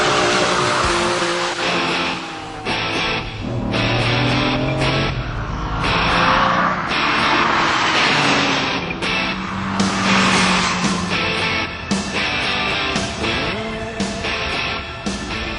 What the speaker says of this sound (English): I am going to do is demonstrate just how fast the Diablo accelerates.